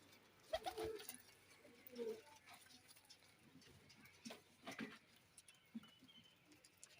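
Domestic pigeons kept for sale coo in short soft bursts, with wing flutters and pattering movement in between, fairly quiet and close, with no talk.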